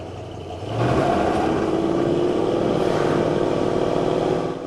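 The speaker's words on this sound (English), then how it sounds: "Good exhaust note again. Not terribly loud, doesn't have a crazy aggressive muffler on it." A 1979 Dodge Little Red Express truck's 360 V8 rumbles to life and settles into a steady, moderately loud exhaust note through a mild muffler, deep and even without harsh aggression.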